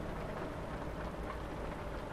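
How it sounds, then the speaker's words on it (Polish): Steady, dense hiss of falling rain in American Truck Simulator, continuous and even throughout with no other sounds. "Pada deszcz."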